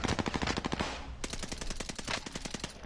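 Rapid automatic gunfire in the Warzone video game, dense repeating bursts that pause briefly then resume, loud and close throughout with no talk.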